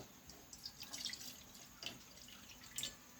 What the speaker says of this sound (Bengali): হাফ বাটি জল দিয়ে দিলাম